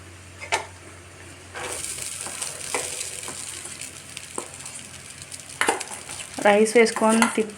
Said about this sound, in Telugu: ఒకసారి అలా తిప్పుకోవాలి. తిప్పుకుంటే రైస్ అంతటికి ఆ మసాలా అన్నది పట్టుద్ది.